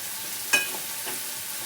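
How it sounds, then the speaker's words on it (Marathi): Onion and tomato frying in a pan for a field-bean curry, stirred until the tomato breaks down; a faint, steady sizzle with one sharp utensil clink and a soft scrape, no voices. "असं पूर्ण तळून घेणार आहे आपण टमाटा एकदम बारीक होईपर्यंत हलवीतच राहायचं आपण"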